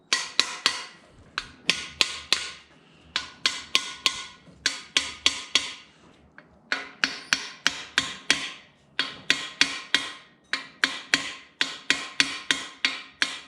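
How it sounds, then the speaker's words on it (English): Rapid metallic hammer taps on engine main bearing caps in quick bursts of several strikes, close and crisp, with short pauses between groups; no talking. "give them a nice tap with the hammer to ensure that they're flush with the block"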